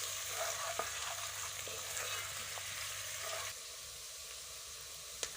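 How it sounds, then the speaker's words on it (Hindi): Chopped onion fries in a pan for keema, a soft, steady sizzle heard close but faint, easing to a quieter hiss partway through, with a few light clicks. "और इसको भी फ्राई कर लेंगे।"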